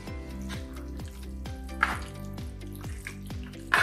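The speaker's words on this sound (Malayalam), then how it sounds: "അപ്പൊ ഞാനിത് ആ മല്ലിയിലൊക്കെ ഇട്ടിട്ട് ഒന്ന് ഇളക്കി കൊടുക്കുന്നുണ്ട്" A thick beef varattu gravy with coriander leaves being stirred in a pan, with soft sizzling and repeated scraping strokes of a spoon in a steady rhythm, close by, with no talking.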